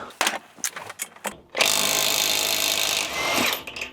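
A hybrid ELTOS AG 600 UBL impact wrench set to 300 Nm loosening a bolt: a loud, continuous mechanical hammering whir lasting over a second, close up, after a few short clicks and knocks.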